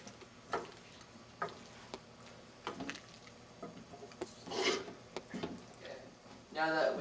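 A spoon stirs chocolate chips and margarine as they melt in a pan, giving soft, irregular scraping taps with faint sizzling beneath a person talking.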